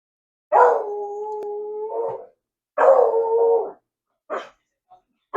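A dog howling and barking indoors: two drawn-out, wavering howls about a second each, followed by a short bark and a brief yip, close and fairly loud with silence between.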